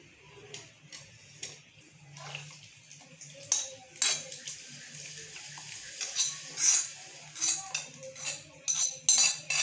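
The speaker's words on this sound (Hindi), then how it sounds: "इसी तरह से मुसलसल चम्मच हिलाते जाना है हमें।" A spoon stirring rice kheer pudding in a pot over medium heat, with irregular metallic clinks and scrapes against the vessel that grow busier and louder over the second half.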